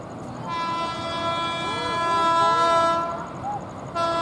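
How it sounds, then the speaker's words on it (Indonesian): An Indonesian KRL commuter train's horn blares in one long, loud sustained blast close by at a level crossing, cuts off, then sounds again over the rumble of the passing train. "Keretanya klakson terus."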